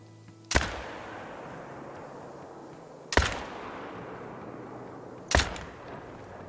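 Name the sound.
rifle shots at a bear in the video game Call of the Wild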